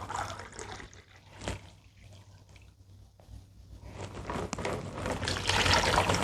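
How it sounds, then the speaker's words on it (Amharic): Water trickles and splashes into flour for a fasting-style spinach dough, a soft, close pour that swells and fades in uneven bursts, heard alone without speech. "ስለዚህ ውሃ አረጋለሁ።"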